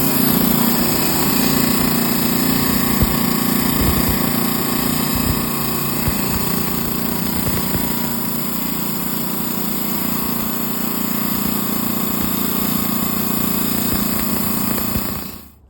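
A 10-inch slab saw cuts through chalcedony rock with a steady, loud, continuous motor whine and drone, unbroken for the whole stretch and stopping abruptly at the end.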